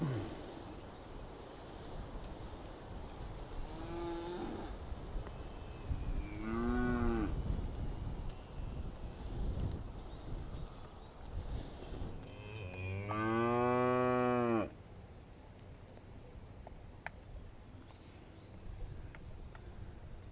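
Cattle on a farm lowing after a storm, several drawn-out moos at intervals with one loud, long call near the end, over a steady outdoor background with no talking.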